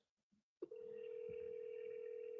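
A few soft clicks are followed by a steady, moderately loud dial tone from a telephone on speakerphone, held for about two seconds.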